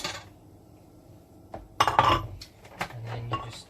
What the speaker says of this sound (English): And then you just mix that up quite nicely until it forms your pastry